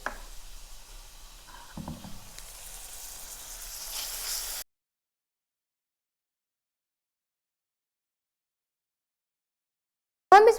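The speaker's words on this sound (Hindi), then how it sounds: "प्याज फ्राई हो चुके हैं। अब हम इसमें 1/4 कप टमाटर डालेंगे।" Chopped tomatoes go into a pan of frying onions with a faint, even sizzle for several seconds. The sizzle cuts to silence, then a brief noise follows at the very end.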